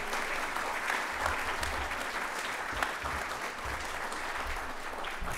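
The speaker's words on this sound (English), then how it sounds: "Let's give him one more round of applause" Audience applauds steadily after a classroom conference talk, a dense, sustained clapping from a full room that holds at an even level throughout, with no voices standing out.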